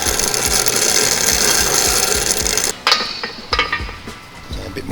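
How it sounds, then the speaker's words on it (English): A piston ring for an RB30DET engine swap is ground to gap on a ring grinder, a steady buzzing rasp that stops abruptly, followed by a few metallic clicks and short scraping bursts as the ring is checked and reground. "We put our ring in and we grind away."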